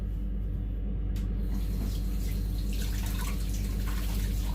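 A NutriBullet blender cup is rinsed under a running tap, with a constant close rush of water, a low hum beneath it and splashy, dripping detail as the cup is moved through the stream.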